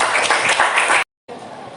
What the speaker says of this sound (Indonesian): Kita aplaus dulu untuk semua.